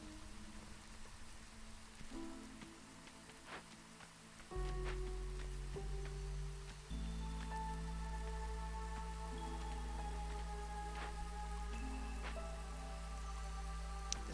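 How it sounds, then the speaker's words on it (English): Steady rain from the video game Against the Storm falls over a calm music soundtrack, a soft continuous patter with occasional drips, holding at an even level throughout. "The soundtrack mixed with the rain sound is actually really relaxing."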